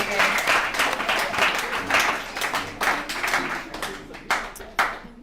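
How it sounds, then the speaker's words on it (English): Attendees of a recovery alumni meeting applaud, with a dense burst of clapping that thins toward a few scattered, separate claps at the end, with some voices underneath. "All right, let's give David another round of applause."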